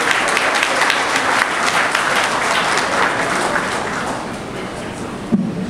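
An audience applauds doctors at a gathering, a dense, continuous wash of clapping from many hands that holds steady and then gradually thins out near the end.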